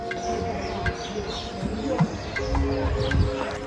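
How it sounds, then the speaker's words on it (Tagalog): Birds chirp in short scattered calls beside a flowing river, set against a steady outdoor background with voices talking nearby. "At huni ng ibon."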